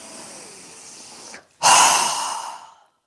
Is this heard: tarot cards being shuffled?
no